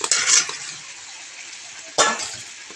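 Fried potatoes are stirred into braised meat in a pan, giving a steady sizzle and scraping with a sharper burst of stirring near the end, close by and without talk.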